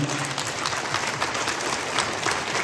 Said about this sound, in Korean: 여러분 박수 좀 부탁드리겠습니다